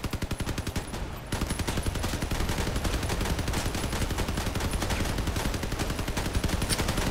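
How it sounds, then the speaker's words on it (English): A rapid-fire quad M-39 Imp machine gun in a video game sounds as a loud, continuous stream of fast, evenly spaced shots, broken by a short gap near the start and then running unbroken to the end. "and it's a machine gun as well"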